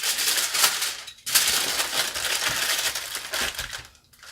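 Folding foil into a packet coated with olive oil: crisp crinkling and crushing rustle, close and steady, with a brief pause partway through.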